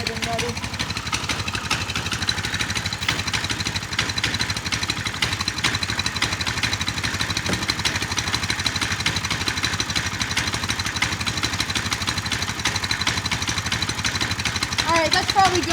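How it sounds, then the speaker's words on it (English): A Coleman CT200U-EX mini bike engine idles steadily and fairly close for the whole stretch, a continuous even drone with no revving. "we just have to get the engine started and ready"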